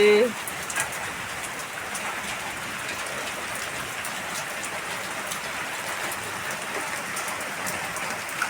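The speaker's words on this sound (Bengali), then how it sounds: "দেখো ঝমঝমিয়ে বৃষ্টি শুরু হয়ে গেছে।" Heavy rain pours steadily at home during a downpour, a dense continuous hiss of drops on surfaces, fairly close and constant throughout with no voices.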